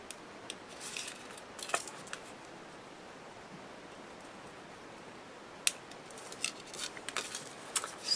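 Scissors round the corners of paper for an envelope mini album, faint snipping clicks scattered irregularly over quiet room hiss.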